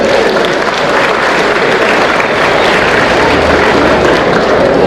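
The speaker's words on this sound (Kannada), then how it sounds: "ದೊಡ್ಡ ಚಪ್ಪಾಳೆ" A large audience breaks into a big, sustained round of applause at a drug-free India campaign event in Madikeri, dense and loud throughout with no break.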